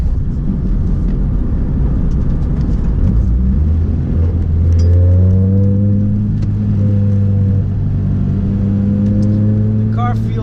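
Car rolling on flat-spotted tires, a continuous loud road and engine rumble with rising tonal engine notes as it accelerates midway, steady throughout with no clear talk.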